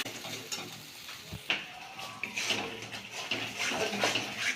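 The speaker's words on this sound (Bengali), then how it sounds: "ভালো করে মশলাটাকে ভালো করে কষিয়ে নেব" Spiced masala with salt and sugar sizzles in a pan for butter paneer, with a soft frying hiss and intermittent scraping and stirring strokes close by.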